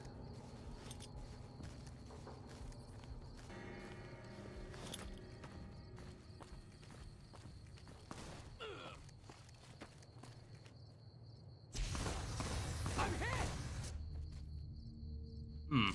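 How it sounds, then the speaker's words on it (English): Heavy footsteps approach in the Fallout: New Vegas video game, a steady run of thudding steps over chirping night insects and low game ambience, ending in a louder burst of noise. "you hear the heavy footsteps of the Mongol kid approaching"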